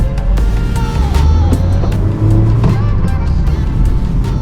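A car engine running on gas fuel after a fuel kit conversion idles and revs steadily up close, a low continuous rumble with slight rises in pitch, and no talking over it.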